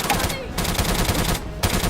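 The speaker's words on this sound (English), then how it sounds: "Every time I would pop my head out, I was getting assaulted by gunfire." Dense bursts of rapid gunfire in Return to Castle Wolfenstein with the RealRTCW realism mod, loud and continuous with brief lulls, the firing crackling steadily throughout.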